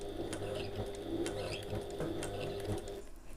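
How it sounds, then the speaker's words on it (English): A sewing machine stitches across a drawn line on a fabric bag, a quiet close whirring run broken by rhythmic clicks and thumps. "lift the presser foot and pivot and sew across that line"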